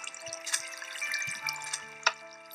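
Water flows in the Minecraft video game inside a flooded house, a soft steady game-style trickle at low level with a few faint clicks and one sharper tap near the end, and no voice.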